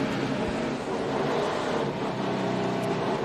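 NASCAR stock cars rolling through pace laps at Charlotte during the 2011 Bank of America 500, a continuous loud engine drone with a steady rumble and wind noise, no voices.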